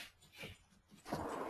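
Several dogs growl and whimper in a backyard, excited by coyotes calling nearby; the low rumbling growls come in uneven bursts, building louder toward the end, with no talking.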